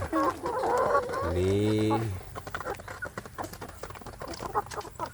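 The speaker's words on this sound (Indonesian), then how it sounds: "Anak ayam kampungnya ini sudah lumayan besar, banyak yang sudah siap jadi indukan ya" Half-grown kampung chickens on a farm give a loud, drawn-out cluck and squawk close by, then softer scattered clucks and rustling, while someone talks over the start.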